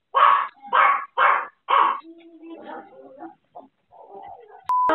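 A dog barks indoors in a home, four sharp close barks in quick succession followed by softer whines and yelps, with a brief click near the end.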